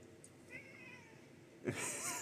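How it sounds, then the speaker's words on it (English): A house cat meows indoors: a short mewing call midway through, then a louder, closer meow near the end over a quiet room background. "I don't know if you just heard my cat."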